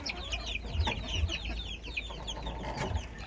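Hens cluck in a backyard breeding pen for cobra-type chickens, several birds calling in short overlapping bursts at close range over a constant low farmyard hum, with no talking.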